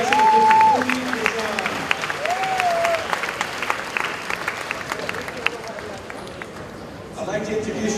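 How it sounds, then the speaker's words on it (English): A crowd applauds the Oxford High School Marching Band at an opening-day event, a steady wash of clapping lasting several seconds while a voice talks over the start and a brief tonal sound rises and falls. "Another round of applause for the Oxford High School Marching Band"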